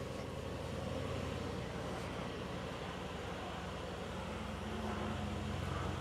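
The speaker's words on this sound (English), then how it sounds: "Let's listen to the idle from outside the car." A Mercedes-Maybach SL 680 with a 4-liter twin-turbo V8 idling, heard from outside the car as a faint, steady low rumble with an even, unchanging tone.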